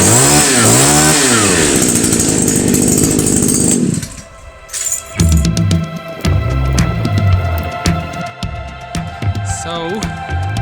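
A petrol strimmer engine in a garden sputters into life with a loud, high-pitched two-stroke buzz that revs up and down for several seconds, then drops to an uneven rattling idle with sharp mechanical knocks.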